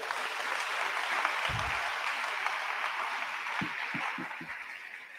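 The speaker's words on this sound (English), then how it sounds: "A round of applause for them." Graduation ceremony audience at a senior high school applauds the graduates, a broad wash of clapping heard from some distance, with a few low thumps partway through.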